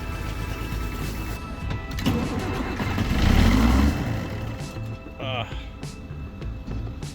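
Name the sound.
vehicle engine cranking while being jump-started with a boost pack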